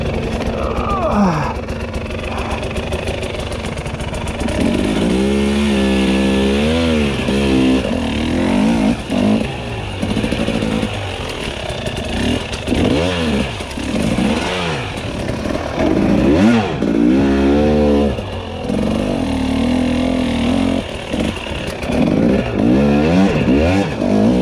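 An enduro motorcycle spins its rear wheel on loose singletrack, with the engine revving hard in repeated rising and falling surges, loud and close, and gravelly clatter between the bursts of throttle.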